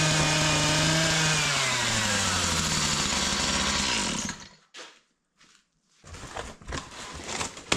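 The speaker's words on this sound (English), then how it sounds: "I couldn't hear you over the chainsaw" A chainsaw runs loud and steady at close range, its pitch sliding as it revs down, then cuts out into near silence before rough, uneven noise picks up again.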